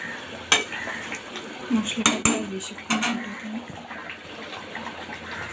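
Dishes and cutlery clink as egg and potato curry is served, several sharp scattered knocks of spoon against plate and pot over a low background hum, with no talking.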